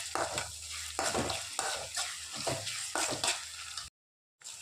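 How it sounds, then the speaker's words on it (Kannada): A spoon stirs onion frying with ginger garlic paste in a pan for a capsicum egg palya, with steady scraping strokes about once a second over a continuous close sizzle that cuts out briefly near the end. "ಶುಂಠಿ ಬೆಳ್ಳುಳ್ಳಿ ಪೇಸ್ಟ್ ಹಾಕಿ ಮಿಕ್ಸ್ ಮಾಡಿ ಈರುಳ್ಳಿನ ಫ್ರೈ ಆಗಲಿಕ್ಕೆ ಬಿಡ್ತೀನಿ."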